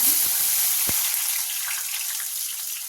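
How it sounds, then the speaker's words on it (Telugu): Onions sizzling in hot oil with cumin seeds in a home kitchen pan, a steady bright hiss that stays close and continuous throughout. "ఉల్లిపాయలు ఫ్రై చేసుకుందాం."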